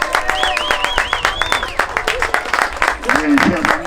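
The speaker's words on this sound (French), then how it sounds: "on les applaudit" Crowd at a U11 youth football tournament in Foix applauding the Toulouse Métropole team, with brisk, steady clapping under an announcer's amplified voice and some whistling or cheering.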